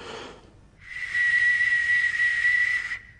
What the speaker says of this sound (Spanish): el sonido cortante de las flechas silbadoras